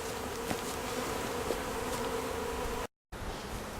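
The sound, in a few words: honeybee swarm buzzing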